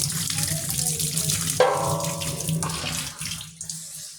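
Tap water runs over tamarind being washed in a sink, a close splashing flow that briefly changes tone midway as the stream hits the fruit and then fades.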